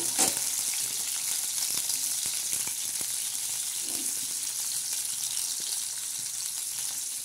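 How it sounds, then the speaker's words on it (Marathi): Onion and tomato frying in hot oil for a tempering, a dense, steady sizzle and crackle that runs evenly throughout with a few faint stirring taps and no voices. "तर आता हा कांदा आणि टमाट्याचा चांगला तडका बसून द्यायचा त्याला."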